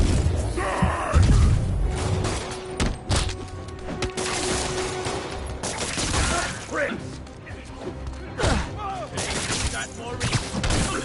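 Gunfire erupts in a Spider-Man video game, with a busy mix of shots, cracks and crashes that continues throughout. Shouting voices are heard over the fighting.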